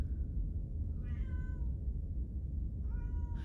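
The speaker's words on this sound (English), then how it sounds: "If there's a lot of meowing going on in the background, I apologize. I got a new cat" A newly adopted house cat meows twice in the background, a short drawn-out call followed by another after a pause, faint and somewhat distant over a steady low room hum, with no one talking.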